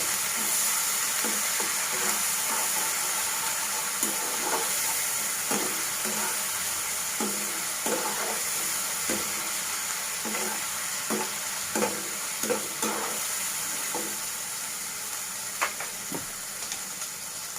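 Chicken curry with ground spices is stirred in a pan, with a steady sizzling hiss and regular soft scraping strokes of the spoon throughout. A faint voice may be present.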